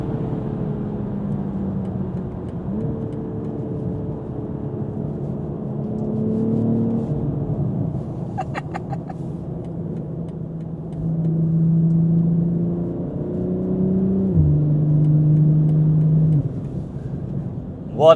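A BMW G42 M240i with an Akrapovic exhaust and downpipe accelerates up a highway ramp, its engine note rising and shifting through several gear changes, heard from inside the car with a deep steady drone.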